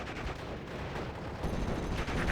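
Sustained Vickers HMG machine-gun fire in a wartime strategy video game, a dense continuous rattle of rapid shots mixed with rumbling battle noise, moderately loud throughout.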